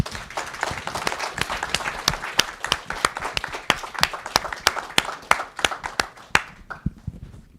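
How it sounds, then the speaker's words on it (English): An audience applauds after a panel discussion at a film premiere on Capitol Hill, with scattered, fairly sparse claps rather than a dense roar that thin out and fade at the end. "Let's give them a big round of applause."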